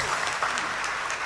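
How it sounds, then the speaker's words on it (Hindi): An audience at a devotional bhajan gathering claps in a dense, steady round of applause, moderately loud and continuous throughout the brief moment. "एक बार फिर ताली बजाइए आप उनके लिए।"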